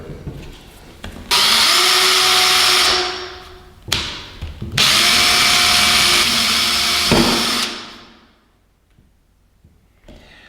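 A power drill bores through MDF for a studio music desk in two loud sustained bursts, separated by a short pause and a few knocks, then the motor winds down into near silence.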